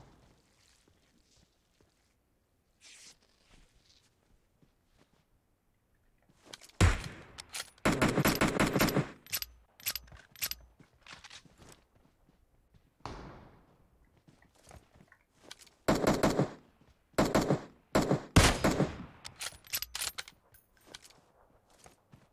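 Gunshots from PUBG Mobile crack out in scattered bursts of rapid fire, fairly faint overall, with quiet gaps between volleys and a few isolated shots.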